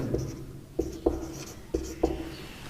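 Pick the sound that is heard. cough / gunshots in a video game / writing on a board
writing on a board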